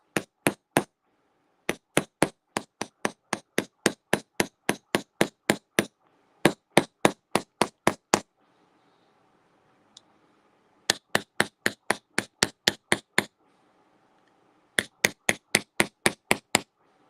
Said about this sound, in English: I am going to be using a different, cheaper hammer, and I am going to punch this much more firmly